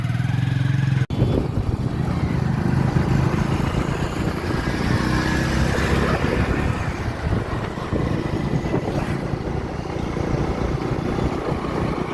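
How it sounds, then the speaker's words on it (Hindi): A motorcycle engine drones continuously while riding, with strong rushing wind noise over the steady hum and a brief knock near the start. "हम भी निकल रहे हैं ये बाइक पे।"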